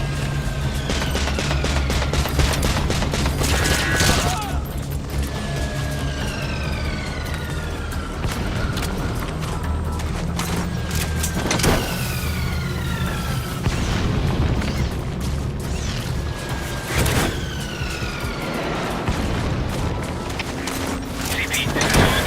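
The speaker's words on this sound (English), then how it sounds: "Mortar strike appears success." Dense battle din from Metal Gear Solid V: rolling mortar-strike explosions and bursts of gunfire with booming impacts and whistling incoming rounds, loud and continuous, with radio voices talking underneath.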